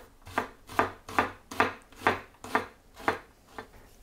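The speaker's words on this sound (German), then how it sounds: "Die Zwiebel, die schneiden wir in feine Streifen" A knife slices an onion into fine strips on a board, eight or nine steady, evenly spaced chopping strokes, close and clear with no talking.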